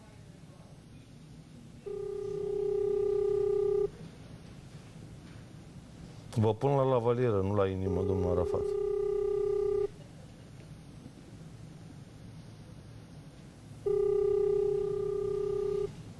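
An outgoing phone call to a state secretary sounds three evenly spaced ringback tones, each about two seconds long, with someone talking briefly between the first and second rings.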